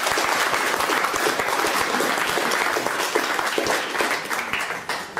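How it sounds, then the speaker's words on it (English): Hearty audience applause at a sustainable futures event, dense continuous clapping from many hands filling the room and tapering slightly at the end, with no speech over it. "if we get a big round of applause for our first two speakers"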